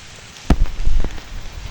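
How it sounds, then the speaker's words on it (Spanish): Rain falls in a park on a grey day, soft steady patter with a few louder close drops hitting nearby. "Bueno, está lloviendo, está haciendo un día gris"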